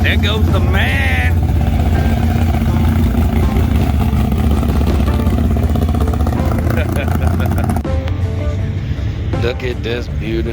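A big block Willys gasser hot rod with a tilt front end rumbles loudly nearby at a street rod show, its deep engine drone heavy under almost constant talk from people in the crowd.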